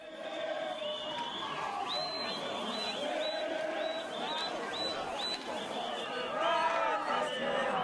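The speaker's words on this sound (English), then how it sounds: "Police had their hands full trying to control an unruly crowd." An unruly crowd of protesters shouts and chants together in a sustained, fairly loud roar, with raised voices overlapping and rising and falling.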